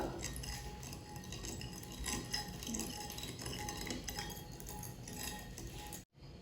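A spoon stirs a dry fruit ice cream mixture in a bowl, giving continuous close scraping and light metallic clinks in a steady circular rhythm, ending in a brief sudden cutout.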